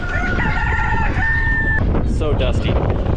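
A Polish rooster crows loudly and close by, a drawn-out rising and falling call, followed by clucking and scattered fowl noises over dusty barnyard background.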